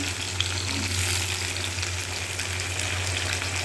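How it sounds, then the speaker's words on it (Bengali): Potatoes and okra seasoned with turmeric frying together in a pan, a steady close sizzle with a low hum underneath and no talking. "আলু আর ঢেঁড়সটাকে একবারেই ভেজে নেব, নিয়ে ভেজে তুলে রাখবো"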